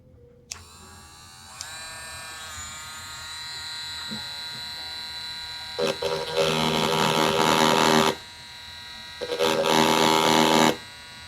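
Rotary engraver fitted with a diamond-tipped ball bit starting up with a rising electric whine, then grinding loudly into BMW E46 car mirror glass in two bursts of harsh scraping buzz.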